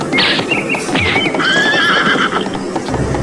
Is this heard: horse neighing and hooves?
yes